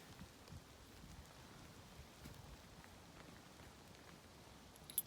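Steady rain falling at an outdoor shooting range on New Year's Day, a soft continuous patter of drops on surfaces with no voices, holding even throughout and ending on one sharper tap.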